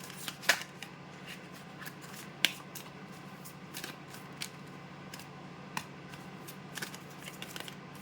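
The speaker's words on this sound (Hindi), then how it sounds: "देखो ये सारे कार्ड्स मैं आपके सामने ही निकाल रही हूँ।" Tarot cards are shuffled and drawn by hand, making soft papery flicks and sharp snapping slaps scattered irregularly over a quiet room background, close and fairly faint.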